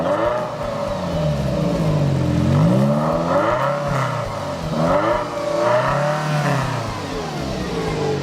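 A 1989 Ferrari Mondial t Coupe engine revs repeatedly, rising and falling in pitch with a smooth, throaty roar, close and steady throughout.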